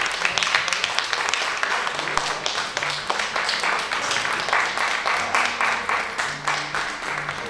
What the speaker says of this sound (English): Let's give a round of applause to Kwok.